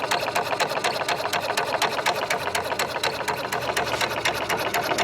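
An HPA air compressor fills a paintball air tank with a fast, steady mechanical chatter, loud and continuous throughout, with no talking.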